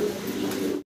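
Fancy pigeons kept with their squabs at a pigeon sale coo steadily and fairly close, a continuous low cooing that ends abruptly.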